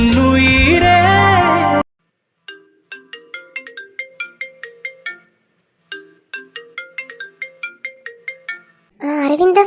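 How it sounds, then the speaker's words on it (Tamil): A phone ringtone plays for an incoming call as a melodic electronic tune. Two bursts of bright, plucked notes are separated by a short silence, loud and alone. A song fades out before the ringing and another starts after it. "அரவிந்த் தான் ஃபோன் பண்றாரு."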